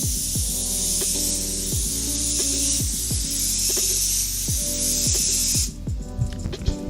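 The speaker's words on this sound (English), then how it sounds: "This is your first airbrush?" An airbrush sprays paint with a steady, loud hiss for nearly six seconds, with mechanical clicks and a low hum underneath, then stops abruptly, leaving faint handling noises.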